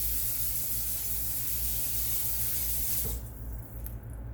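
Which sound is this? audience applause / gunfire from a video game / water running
water running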